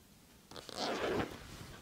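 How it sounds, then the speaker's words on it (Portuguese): A zipper on a handmade fabric toiletry bag is pulled open in one steady close-up rasp lasting under a second, with quiet room tone before and after and no talking. "Abri o zíper."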